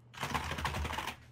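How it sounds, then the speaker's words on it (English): Brief flurry of rapid keystrokes on a computer keyboard, quick clicks over about a second, faint and close, with no talking. "Oh, I love that keyboard"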